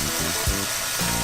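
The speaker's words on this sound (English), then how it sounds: "We're just letting this sear for 2 minutes." Beef searing in a pan for curry crackles with steady sizzling, broken by a couple of short clatters and low thumps as the meat shifts, close and fairly loud.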